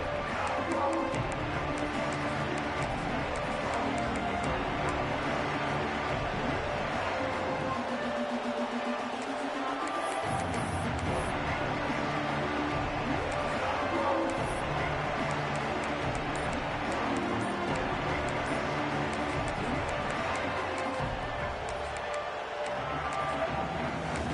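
Stadium crowd noise in a college football video game, Clemson vs. LSU, a dense, continuous roar that stays loud and steady throughout, with no talk on top.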